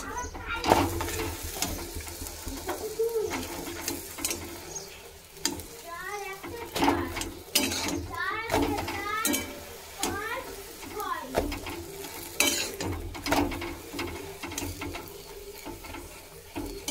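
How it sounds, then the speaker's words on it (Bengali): Pea-stuffed kachori frying in hot oil in a home kitchen, a continuous crackling sizzle broken by clattering stirs and scrapes, with a voice talking over it. "এই ভাজছি, তোমাদের দেখাচ্ছি।"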